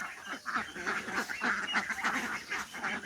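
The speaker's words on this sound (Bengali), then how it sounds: "এই ছোট হাঁস বড় হাঁস এই হাঁসগুলো" Many ducks, young and adult together, quack at close range, a dense, steady stream of nasal calls rising and falling in a lively chorus.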